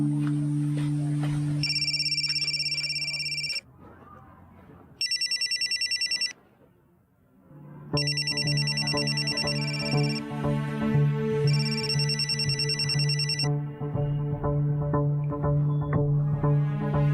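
A telephone rings in a Hindi village comedy scene, repeating electronic ringtone bursts that start and stop in several loud rounds, with background music running underneath.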